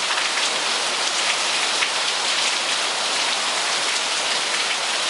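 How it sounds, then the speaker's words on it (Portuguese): Heavy rain pours down steadily in a dense, loud hiss of drops on surfaces, with no voices over it. "Essa chuva aí"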